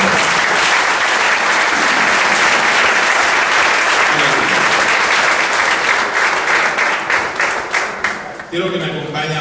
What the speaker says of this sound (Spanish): Dale un aplauso al Señor en este momento.